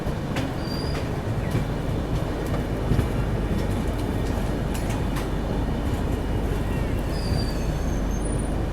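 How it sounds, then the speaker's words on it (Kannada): Freight trains roll past on a railway line, heard from aboard a passenger train in a steady, dense rumble of wheels on track, with faint squeals and clicks running throughout. "ಪೂರ್ತಿ ಫ್ರೈಟ್ ಟ್ರೈನ್ಸೇ ಕಾಣದ ನೋಡ್ರಿ ಇಲ್ಲಿ."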